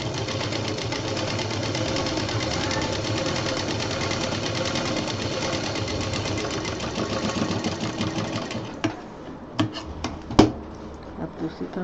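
A sewing machine stitches a diaper bag belt in a long, steady, fast mechanical whir for most of the span, then stops, leaving a few scattered clicks and knocks.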